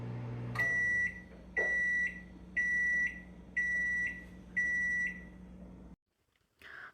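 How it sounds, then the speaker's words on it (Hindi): A microwave oven heating lemon water for cleaning hums steadily while five evenly spaced electronic beeps sound, then the hum cuts off into near silence before a brief clunk. "इसको मैं ना माइक्रोवेव क्लीन करूँगी अपना, तो उसके लिए इसको हम 3 मिनट के लिए रख देंगे"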